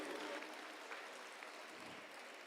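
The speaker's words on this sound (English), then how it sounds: "give it up for a big round of applause for the Kirtan sir" A crowd at a United Nations Day celebration at an educational institution gives a round of applause, a dense, even wash of clapping that holds steady for a couple of seconds at moderate distance, with no voices on top.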